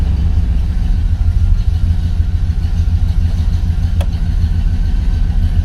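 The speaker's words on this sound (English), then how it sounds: "give her a little bit of gas, let her warm up" A 1972 Buick Skylark engine idles on a cold morning after being given a little gas to warm up, a steady, even rumble running close and loud with no voices.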